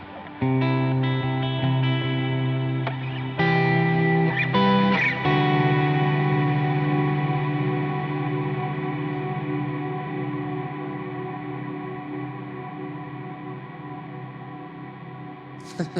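Electric guitar run through a Line 6 HX Stomp XL with a long-decay reverb: a few strummed chords ring out, then a sustained wash slowly fades over many seconds, alone and fairly loud at first.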